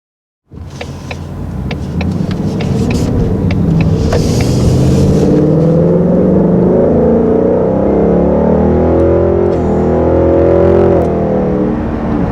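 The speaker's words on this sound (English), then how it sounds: "These muscle cars nowadays, I mean, the V8's just a lot, very intense power." A 2020 Ford Mustang GT Performance Pack V8 revs hard and close up, a loud sustained engine roar that climbs and holds for about ten seconds with a few sharp mechanical clicks near the start.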